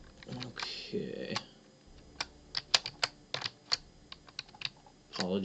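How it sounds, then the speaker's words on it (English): Computer keyboard typing, a run of sharp irregular clicks and key taps close to the microphone, with brief bits of a voice speaking around them. "Apologies for the clicking."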